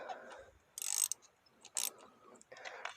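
A ratchet socket wrench turning spark plugs loose: a few short bursts of fast metallic clicking separated by quiet gaps, close and moderately loud, with no talking.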